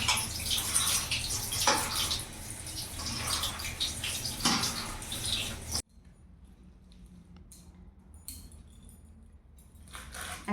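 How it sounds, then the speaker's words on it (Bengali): Fenugreek leaves being washed by hand in water: busy, close splashing and sloshing for several seconds, then a quieter stretch of light drips and small swishes. "মেথি শাকটা আমি ভালো করে বেচে নিয়েছি এটাকে আমি ধুয়ে নেবো"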